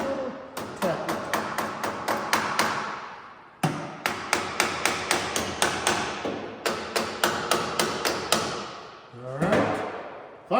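Close, sharp metallic taps on the carburetor of an old Willys, struck in quick runs of evenly spaced hits with brief pauses between bursts, then a low thump near the end.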